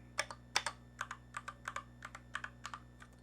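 Typing on an iLovBee i61 60% mechanical keyboard: a steady run of crisp, close keystroke clicks at an even pace, with a faint constant hum underneath and no talking.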